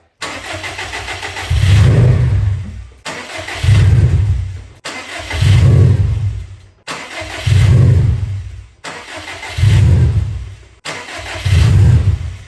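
A 2017 Subaru STI with an EJ20X engine cranks repeatedly without firing, six loud starter bursts of about a second and a half each, separated by short pauses, close up with no talk.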